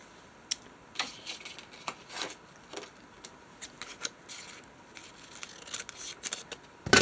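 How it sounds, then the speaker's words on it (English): Scissors snip through paper for a junk journal, a series of crisp, close cutting clicks spaced irregularly, quiet against a faint background hum. "I'm going to cut it off right here."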